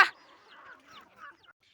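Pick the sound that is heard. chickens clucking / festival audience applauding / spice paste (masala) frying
chickens clucking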